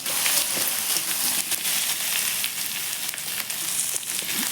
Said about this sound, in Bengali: এখন এটাকে একটু ভেজে নেবো যেন কাঁচা গন্ধটা চলে যায়